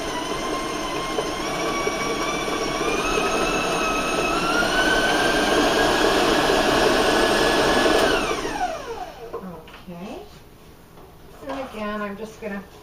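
An electric mixer beats chocolate peanut butter cupcake batter at high speed with a steady, loud motor whine. The whine cuts off partway through, leaving quieter scraping and handling noises after it.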